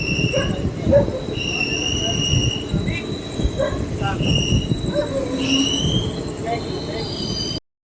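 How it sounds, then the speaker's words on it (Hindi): Doon Express passenger train rolling into Balamau Junction platform 1, with steady rumbling wheels and repeated high metallic brake and wheel squeals over the noise, close and continuous until an abrupt stop. "दून एक्सप्रेस अपनी अप्रोच है"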